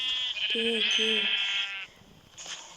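Sheep bleating on a farm: a couple of close, wavering bleats in quick succession with a voice nearby and a steady background hiss.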